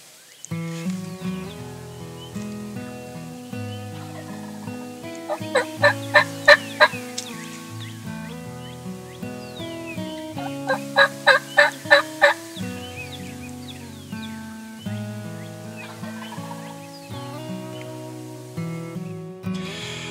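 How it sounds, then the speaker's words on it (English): Wild turkeys gobble on an Ozark ridge, loud rolling calls repeated in two distinct bursts of rapid notes, with other birdsong and fainter gobbles around them and no talking. "We had them gobbling all over the ridge around us"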